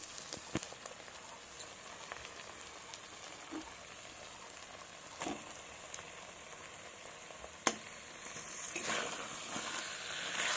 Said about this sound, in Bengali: মাংসের যে জলটা বেরিয়েছিল ওই জলটা দিয়ে আমি মশলাটাকে কষাচ্ছি সুন্দরভাবে এবার দিয়ে দিব টমেটো কুচি